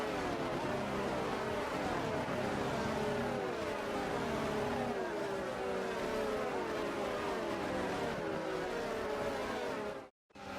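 Formula 1 race cars on a formation lap in the video game F1 22 make a steady, dense engine drone that holds loud and constant throughout, then cuts out abruptly near the end.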